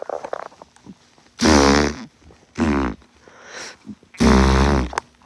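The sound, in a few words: imitated fart sound made on bed sheets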